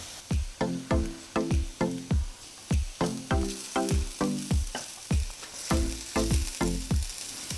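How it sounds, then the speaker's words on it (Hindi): Chopped onions and cumin seeds frying in a kadhai, heard as a series of short, rhythmic sizzling and scraping bursts, roughly two per second, close and moderately loud with no voices. "इसमें कटे हुए प्याज डाल देंगे। कढ़ाई में बीच में हम थोड़ा सा जीरा डाल देंगे।"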